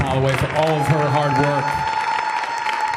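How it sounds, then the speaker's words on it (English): Round of applause for a speaker at a high school Black History Month celebration, crowd clapping in the background beneath a voice talking over it at a podium. "I just want to give another big round of applause"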